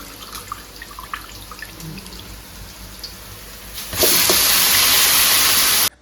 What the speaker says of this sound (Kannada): ಗೈಸ್ ನೀರು ತುಂಬಿಸ್ತಾ ಇದ್ದೇನೆ